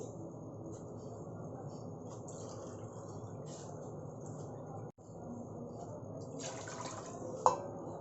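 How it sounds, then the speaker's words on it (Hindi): Water poured from a cup into a large pot of yogurt for a fried chicken marinade: a soft, steady, faint liquid rush and trickle that runs throughout, with a small splash near the end. "और डालेंगे हम 2 कप पानी"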